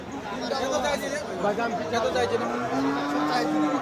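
At a cattle market, a Sahiwal bull gives a long, low moo that rises out of the chatter and bargaining of a crowd of traders talking nearby.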